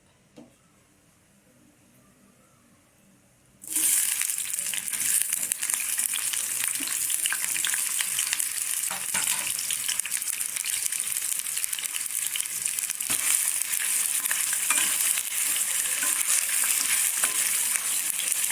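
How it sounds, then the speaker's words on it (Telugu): Paneer cubes frying lightly in oil in a kadai, a loud steady sizzle that bursts in suddenly after a quiet start and keeps crackling without pause. "ఆయిల్లోని మనం ముందుగా కట్ చేసుకున్న పన్నీర్ని లైట్గా వేయించుకోవాలి"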